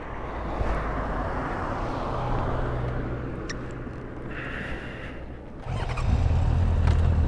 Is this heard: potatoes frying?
no